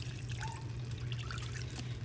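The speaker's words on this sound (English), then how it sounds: "So I'm gonna add some more water" Water trickles softly and steadily into an Instant Pot of ranchero beans, a faint continuous pour over a low hum.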